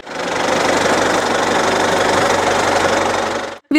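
A tractor engine chugs loudly and steadily with a rough, knocking rumble for several seconds while pulling a tree planter, then cuts off abruptly near the end.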